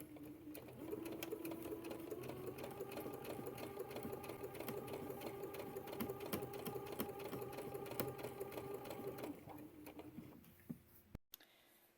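A sewing machine stitches lace tape onto the raw edge of a dress hem, sewing very close to the edge in one long, steady run of fast mechanical whirring and ticking that stops near the end.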